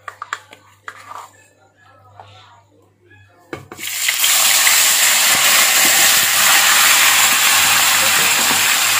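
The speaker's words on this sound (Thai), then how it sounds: "โอเคนะคะเดี๋ยวเราก็จะมาเริ่มทอดกัน ใส่น้ำมันก่อน" Marinated pork ribs drop into hot oil for frying and burst into a loud, steady sizzling hiss that fills the kitchen, after a stretch of someone talking over a low hum and quieter sounds.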